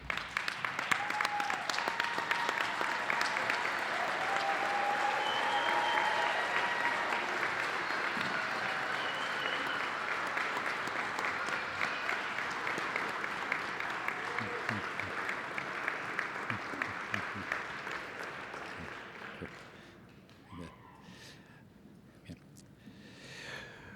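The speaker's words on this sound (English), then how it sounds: "give these graduates a well-deserved round of applause" A commencement audience, standing for the graduates, applauds in a long, loud, dense wave of clapping that holds steady for about twenty seconds, then thins and fades toward the end.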